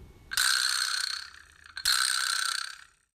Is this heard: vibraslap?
yes